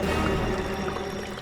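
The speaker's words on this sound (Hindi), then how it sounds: "ये पानी की आवाज आ रही है," Water flowing steadily near a pond, a soft continuous rushing and trickling that stays faint and even, with no voices.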